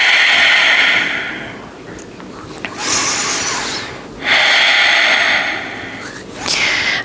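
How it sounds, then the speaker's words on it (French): Calm, deep breathing after an Ashtanga vinyasa yoga practice, with slow airy inhales and exhales alternating in long, loud swells about every couple of seconds, close to the listener with no talk. "retrouver une respiration naturelle."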